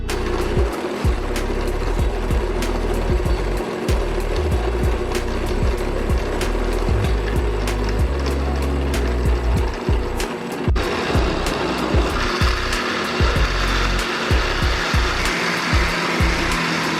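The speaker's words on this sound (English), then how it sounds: "Let's reach for the blender." A blender runs continuously to make an immune-boosting juice, a loud steady whirring motor with rattling bursts that shifts pitch partway through.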